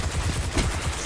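Rapid gunfire from the shooter video game Destiny 2, with a shotgun in use. It comes as a dense, continuous volley of low booming shots across the whole moment and sits fairly loud throughout.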